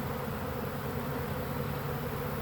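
A bee swarm gathering near a Swarm Commander lure hums in a continuous, dense buzz, steady and close with no pauses and no voices.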